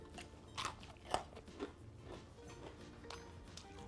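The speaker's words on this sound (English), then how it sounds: "I hope you can hear the crunch. Let me just give this a bite again." Crunchy sweet and sour chicken being bitten and chewed close up, a few sharp crisp crunches followed by softer chewing, with no talking.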